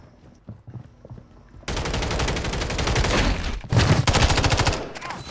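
Gunfire in Call of Duty: a few faint shots at first, then a sustained burst of rapid automatic fire, a brief pause, and another loud rattling burst, with no talking.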